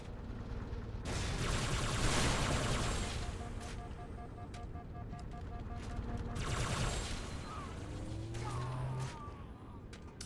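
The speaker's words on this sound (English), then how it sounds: "Oh, they're on shotguns." Shotgun blasts in a Halo multiplayer match come in two heavy, sustained clusters of gunfire with mechanical clatter, fairly distant and muffled, separated by a quieter stretch.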